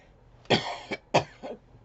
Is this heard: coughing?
yes